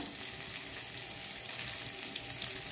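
Masala fries in a pan for crispy kuchalakki neeru dosa, giving a dense, continuous sizzle, close and steady throughout, with no voices.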